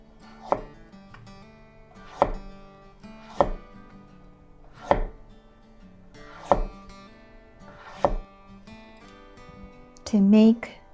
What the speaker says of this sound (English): Next, I cut the carrot into 3 cm